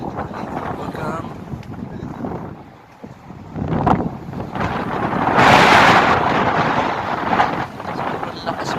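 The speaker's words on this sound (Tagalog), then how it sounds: "Welcome to sandstorm." Sandstorm wind roars and buffets the microphone in strong, surging gusts that swell loudest midway, with people talking over it.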